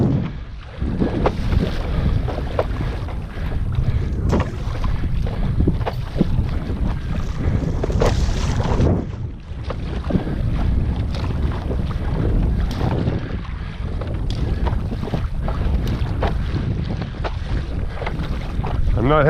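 A paddler strokes through ocean water off Dana Point, California, with strong wind buffeting the microphone in a constant loud roar, water swishes and splashes blending under it, and occasional talk.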